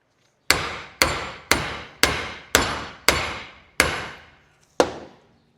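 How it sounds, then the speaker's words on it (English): A hammer drives an axle shaft into a rear differential with eight hard, ringing metallic blows at a steady rhythm, each one close and loud and decaying before the next, with no voices. "we're going to get a bigger hammer"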